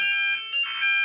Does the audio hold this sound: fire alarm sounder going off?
yes